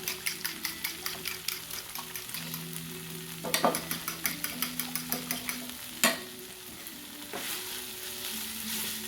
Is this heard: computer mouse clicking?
no